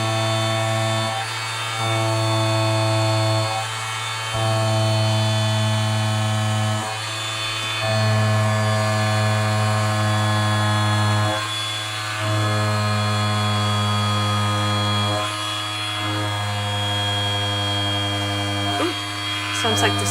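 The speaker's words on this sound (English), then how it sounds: "Sounds like the sander is dying." An electric sander that is failing hums with a strong, steady drone, its pitch and strength surging and dropping every few seconds as it struggles.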